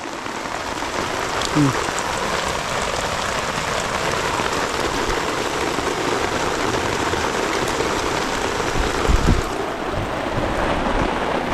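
Rain pours down steadily on a forest campsite in a dense, continuous hiss, with a faint distant rumble and a brief thump partway through.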